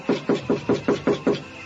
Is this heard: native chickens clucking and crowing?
no